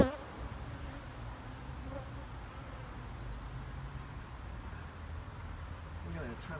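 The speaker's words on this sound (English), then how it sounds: "And I'm going to put these bees back in here." A dense swarm of bees drones continuously close by, a steady buzzing hum throughout with no clear speech.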